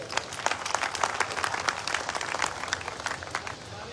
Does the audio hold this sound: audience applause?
yes